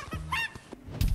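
Chicken clucking in the video game Fortnite during a golden egg hunt, a couple of short honking clucks followed by a thunk, close and loud with no speech.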